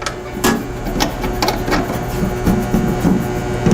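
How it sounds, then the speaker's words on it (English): A welder's wire feeder, spool case and feeder cover on a Welbee aluminum kit setup are shut in a string of sharp clicks and clunks at close range over a steady background hum. "Close the feeder, spool case, feeder cover."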